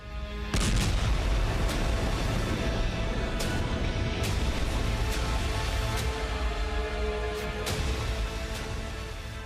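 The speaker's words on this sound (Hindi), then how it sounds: "इसके कुछ ही सेकंड बाद रूस के युद्धपोत पर जबरदस्त धमाका होता है।" A massive, deep explosion on a Russian warship erupts and rumbles on continuously, with several sharper blasts and pops punching through the roar.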